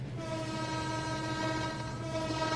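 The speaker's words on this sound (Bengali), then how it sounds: "সামনে রেল ক্রসিং, হরন বাজাইতে হবে।" A locomotive horn in a train simulator game sounds one long, loud, steady blast ahead of a rail crossing, over the low rumble of the train.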